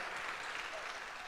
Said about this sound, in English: And another round of applause, please.